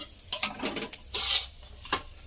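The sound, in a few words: panch phoron spices tempering in hot oil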